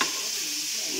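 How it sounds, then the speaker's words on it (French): A dish simmers and sizzles steadily in a pan over the heat, a continuous close frying hiss with faint bubbling and no talk. "on laisse mijoter tout ça"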